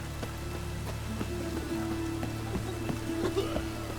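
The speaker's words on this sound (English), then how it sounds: "Raining again." Steady rainfall in The Witcher 3: Wild Hunt hisses under a low ambient drone and hum, with scattered drips and soft clicks, continuous and fairly quiet throughout.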